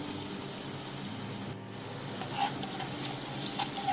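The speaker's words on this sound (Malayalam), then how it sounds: "സവാള പച്ച മണമെല്ലാം മാറി നല്ലതുപോലെ തന്നെ വഴറ്റിയെടുക്കണം" Onions sauté with salt in a pan for a North Indian vegetable curry, a steady sizzling hiss with a short pause midway, then louder stirring scrapes and sputters.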